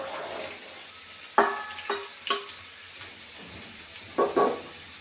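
Chunks of sweet pumpkin tipped into a pan of already-fried onions, with a soft sizzle beneath a few sharp clacks and scrapes of stirring, then a pair of louder knocks near the end.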